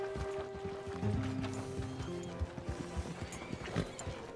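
Horse hooves clip-clopping in the Red Dead Redemption 2 video game, a series of uneven thuds at moderate volume over a low ambient background, with a short neigh-like tone near the start.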